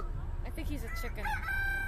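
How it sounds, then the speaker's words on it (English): A rooster crows once, a rising and falling call heard at moderate distance amid outdoor background noise at a safari park. "Are they roosters?"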